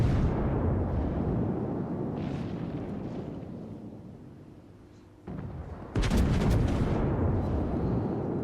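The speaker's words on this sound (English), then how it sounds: "everybody is concentrating their firepower on him right now" Battleship guns fire in World of Warships naval combat around the USS Arizona: heavy booming salvos with rumbling tails, a quieter stretch, then renewed sharp blasts near the end.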